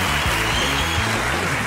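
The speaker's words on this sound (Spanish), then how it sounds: "Un aplauso para ellos, por favor." A television comedy show's studio audience applauds its judging panel, a loud continuous wash of clapping over a steady bed of low music.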